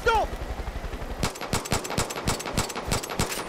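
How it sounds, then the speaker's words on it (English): Pistol gunfire in the video game Far Cry 5: a rapid run of about a dozen sharp, loud shots at an uneven, quick rhythm, following a brief stretch of low rumbling background sound. "He's shooting at him! With a pistol!"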